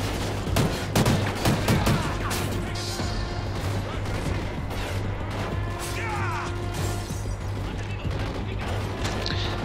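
Submachine gun fire in Call of Duty Ghosts crackles in quick bursts, densest early on, amid mechanical clanks, crashes and distant battle noise with some voices under the mix.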